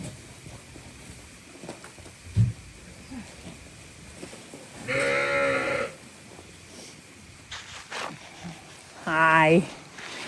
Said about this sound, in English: We'll give the sheep Harold some more water. And the goat girls.